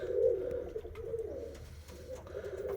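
A Polish Mewka pigeon coos in a low, soft, rolling call, close by and steady, with no talking.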